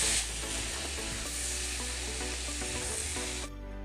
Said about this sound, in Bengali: এই যে মশলাটা বেঁচে গেছিলো, তো ওটাকে এবার একটু এর মধ্যে দিয়ে ভালো করে একটু কষিয়ে নেবে